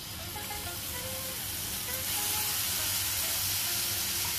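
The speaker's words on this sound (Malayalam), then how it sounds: "ഒരു പാൻ ചൂടാക്കി അതിൽ അല്പം ഒലിവെണ്ണ ഒഴിച്ച് അതിലേക്ക് സ്ക്യൂവേഴ്സ് എല്ലാം നിരത്തി വയ്ക്കാം" Chicken shish tawook skewers laid in hot olive oil in a pan give off a steady, close sizzling hiss that grows louder about halfway through.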